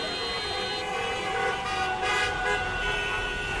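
Car horns honk steadily through heavy traffic in a scene from the Clerks short, several horns overlapping in a loud, continuous blare with engine rumble beneath.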